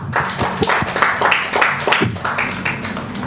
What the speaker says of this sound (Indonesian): Bisa berikan tepuk tangannya